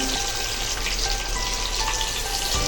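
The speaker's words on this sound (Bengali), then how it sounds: "এবার আলুটাও ভেজে নেবো হালকা হালকা করে।" Potato pieces fry lightly in oil in a pan with salt and turmeric for a vegetarian Bengali potato-paneer dish, a loud, close, continuous sizzling hiss with no pauses.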